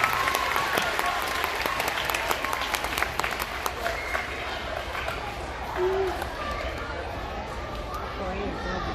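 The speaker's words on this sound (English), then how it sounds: "let's go ahead and give a round of applause to our 4th graders" Sustained round of applause from a school audience honoring 4th graders at an elementary awards ceremony, dense steady clapping filling the room for the whole stretch with faint chatter beneath.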